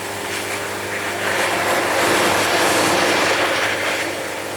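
A sawmill blade drives steadily through a wide, muddy log, a loud continuous broadband roar of cutting and engine noise that swells slightly midway and holds steady without talk.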